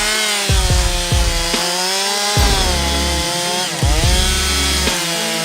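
A Stihl chainsaw fells a tree in a French forest, its engine roaring loud and close with repeated revving surges and drops as the chain bites through the wood.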